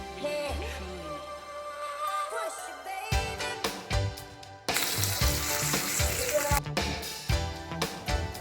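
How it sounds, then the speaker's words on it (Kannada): Oil sizzling and crackling as mustard seeds, cumin and curry leaves are tempered for raw jackfruit sambar, a close, steady frying hiss that swells louder midway, with occasional stirring. "ಒಂದು ಸ್ವಲ್ಪ ಎಣ್ಣೆ, ಸಾಸಿವೆ, ಜೀರಿಗೆ ಮತ್ತು ಕರಿಬೇವು ಮತ್ತು ಒಂಚೂರು ಹಿಂಗೆ ಹಾಕ್ಕೊಂಡು ಒಗ್ಗರಣೆ ಮಾಡ್ಕೋಬೇಕು"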